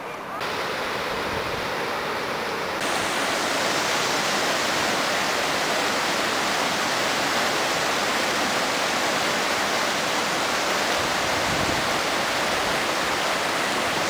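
Cachoeira do Fecho da Serra, a high-volume waterfall in Serra da Canastra near Capitólio, Minas Gerais, pours out a loud, continuous broadband roar that stays steady and close throughout.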